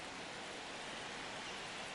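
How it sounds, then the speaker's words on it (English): Steady rain falling outside, a dense, even hiss that holds unchanged throughout, faint and with no distinct drops or voices. "It's been raining all day, really, and I don't know when it's supposed to stop."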